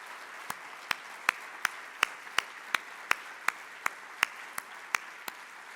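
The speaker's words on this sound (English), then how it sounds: "Let's all give Barbara another round of applause" Sparse, evenly spaced hand claps from a small audience at a state economic summit, about a dozen sharp claps over several seconds in a quiet room.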